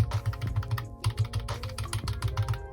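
Rapid plastic calculator button clicks, close and distinct, pressed in a quick uneven rhythm over a faint background hum.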